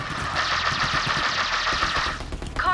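Rapid shotgun fire from Maya's weapon during Borderlands 3 combat, a dense continuous burst of loud blasts that fills the clip before cutting off near the end.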